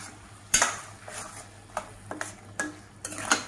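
A spoon stirs red pumpkin and banana flower fry in a pan, with several sharp scraping clinks spaced irregularly over a faint sizzle, close and alone.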